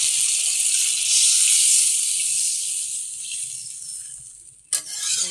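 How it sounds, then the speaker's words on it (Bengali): Water poured into a pan of frying fish curry made with bam or pakal fish, giving a loud steady hiss and sizzle that fades slowly, then a sharp clatter and a renewed burst of sizzling. "এখন আমি জল দিয়ে দিচ্ছি।"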